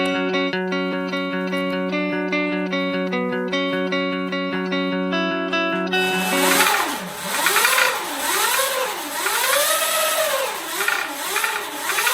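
A Sur Ron electric dirt bike revs with a whining motor that sweeps up and down in pitch several times in a row. It follows a steady tonal hum, is fairly loud and close, and has no talking.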